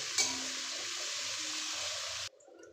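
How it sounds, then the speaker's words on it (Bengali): Onions fry in a pan for mutton curry, giving a steady dense sizzle with a short scrape near the start; the frying cuts off abruptly near the end, leaving quiet room sound. "এবার পেঁয়াজটাকে ভালো করে একটু ভেজে নেব লাল লাল করে একটু ভেজে নেব"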